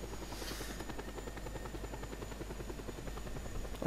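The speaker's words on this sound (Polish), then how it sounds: "Śmigłowiec." A helicopter flies in the video game Just Cause 2, its steady rotor chop thumping close and continuous over a low engine drone, with no talk.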